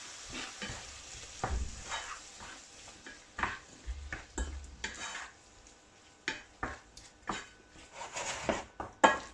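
Fish filling for a fish bourek or pastilla-style brick pastry searing in a pan, with intermittent scraping and stirring bursts over a soft continuous sizzle.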